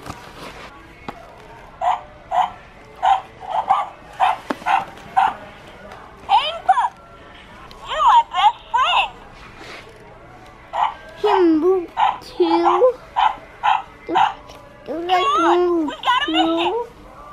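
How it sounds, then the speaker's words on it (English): Pet and Talk Pals toy puppy dogs give a series of short electronic barks, yips and whimpers in quick bursts, close and clear, with occasional voices between them. "Look at these adorable little puppy dog pals. It says Pet and Talk Pals."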